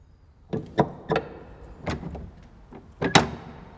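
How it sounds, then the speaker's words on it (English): Door latches worked for sound effects: a quick series of close, sharp clicks and clunks, two in fast succession, then single knocks, ending with a louder double clack with a short ring. "I was using a lot of latches, because that allows me to get the actors to have some movement when they're next to a door."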